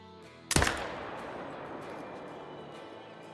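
An AR-308 rifle shot at a turkey in the hunting game Call of the Wild: a single sharp, loud crack followed by a long rolling echo that fades slowly across the open landscape.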